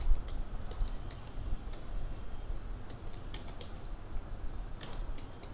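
Light, irregular key clicks from typing on a computer keyboard while entering a group description in Outlook, soft and close against a low steady hum, with small bursts of taps scattered through the stretch.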